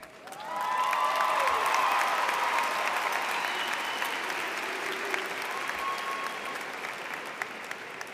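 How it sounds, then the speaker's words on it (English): Graduation audience at a high school ceremony bursts into loud, sustained applause that swells within the first second and holds steady, with faint cheers mixed into the dense clapping of a large crowd. "I beg for everyone here to applaud as loud as one can"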